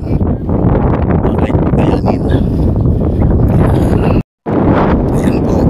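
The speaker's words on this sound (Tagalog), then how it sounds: "Kaya lang problema rito mahangin." Strong wind buffets the microphone on the hilltop of Tinawagan Hills in Baao, Camarines Sur, as a loud, continuous roar with gusty surges and one brief dropout near the end.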